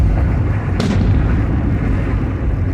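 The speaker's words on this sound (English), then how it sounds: "That was either a firework or a gun going off." A firework or gunshot goes off in the street, one sharp loud crack standing out over steady traffic rumble and street noise.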